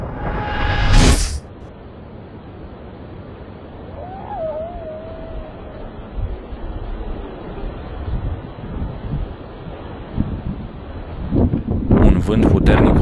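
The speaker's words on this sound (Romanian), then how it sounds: "Vânt puternic, o viteză de peste 100 de km pe oră" Strong wind of over 100 km/h buffets the microphone in rough, fluctuating gusts in the Jiu Valley gorge, with a loud blast at the start and another surge near the end.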